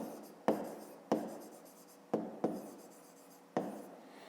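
Pen strokes on paper during a handwritten Grade 5 math exercise, five short scratchy bursts that start sharply and taper off, close and quiet with no voices.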